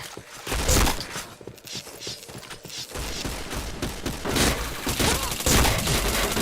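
A shooting video game plays bursts of rapid gunfire, with crackling volleys and sharp shots recurring close and loud over a busy backdrop of game effects, without any clear talk.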